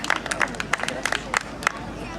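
Scattered claps and crowd noise greet a bodybuilder introduced at a Children's Day show in Kawęczyn, short sharp bursts spaced unevenly over a murmuring audience.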